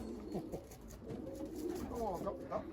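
Racing pigeons coo softly at their home loft after a 100 km race, low, burbling calls rising and falling close by under faint background noise.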